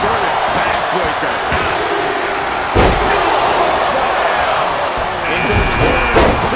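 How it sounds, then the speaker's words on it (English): In a wrestling video game, a wrestler is slammed with an inverted backbreaker, a single heavy thud standing out from a roaring crowd, with a commentator talking. "Inverted backbreaker."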